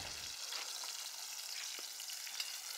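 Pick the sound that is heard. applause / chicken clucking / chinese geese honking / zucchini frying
zucchini frying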